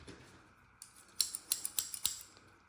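Pattern shears and copper foil shears snipping thin 10 mil vinyl for a stained glass pattern: a quick run of six or seven crisp, close snips over a faint background hiss.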